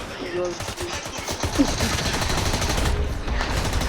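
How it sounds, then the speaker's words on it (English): Rapid automatic gunfire from Fortnite plays in bursts of quick shots, loud and near, with a player's voice talking over part of it. "Bro, who's shooting me?"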